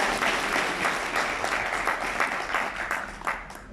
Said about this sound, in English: So a round of applause for the PALs and PALs membership.